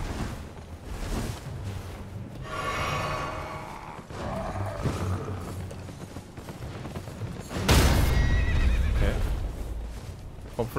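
A horse whinnies in the video game Elden Ring, two drawn-out neighs amid hoof clip-clops and mechanical creaks, with a louder burst of activity near the end.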